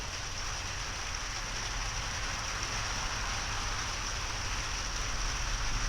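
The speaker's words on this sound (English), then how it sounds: "I better go ahead and get on in before the wind starts blowing the rain inside this area." Rain falling outdoors as a steady, even hiss of drops that stays constant throughout, fairly faint and unbroken by any voices.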